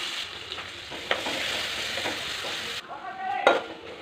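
Onion pieces with a pinch of asafoetida frying in a pan, a continuous close sizzle with a few light stirring scrapes and a metal tap near the end, no voices.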